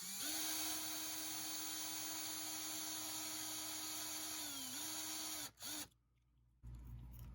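A power drill whines at a steady high pitch for about five seconds, dips briefly, then stops and restarts in short bursts before cutting out, close and fairly loud.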